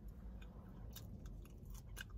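Close, wet chewing of a turkey burger with crispy bacon and fried onion, with soft crunching bites repeating steadily through a couple of seconds and no talking.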